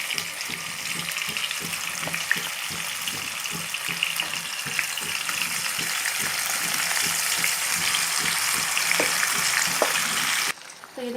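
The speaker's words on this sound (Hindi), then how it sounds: "अब हम इसमें हमारा मैरिनेटेड चिकन डाल देंगे।" Marinated chicken sizzles in spiced oil in a pot for chicken biryani, a continuous crackling fry with frequent soft scraping stirs, briefly shifting at the very end.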